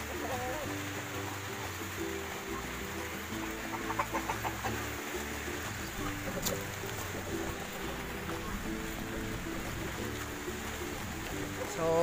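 Hens cluck and murmur in a chicken coop during a week's egg harvest, a low continuous chorus of soft clucks over a steady background hum, with a voice speaking faintly at times.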